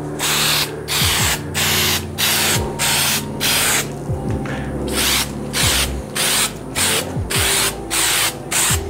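A spray can lays an even coat on pint glasses being prepared for diode laser etching, sounding as a loud hissing spray in rhythmic bursts of roughly half a second, separated by short pauses, with no voices.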